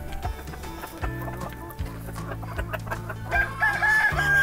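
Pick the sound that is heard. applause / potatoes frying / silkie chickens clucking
silkie chickens clucking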